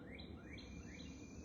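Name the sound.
birds chirping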